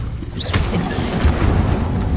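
Incendio fire spell cast in Hogwarts Legacy on PS5, a loud whooshing burst of flame with crackling, booming impacts layered over continuous game noise, lasting about two seconds.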